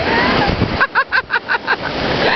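Sea waves wash along a shoreline in a steady broadband roar, briefly interrupted by a short run of rhythmic vocal sounds in the middle.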